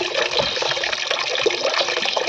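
Water pours steadily from a pipe into a container while a panchagavya mix for garden plants is stirred, a continuous close splashing rush with no talk.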